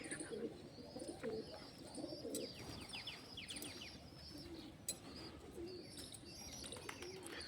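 Pigeons at a rural Meldi Mata temple in Wadhwan give off faint, distant cooing along with soft chirps and a brief flutter of wings over quiet ambient noise.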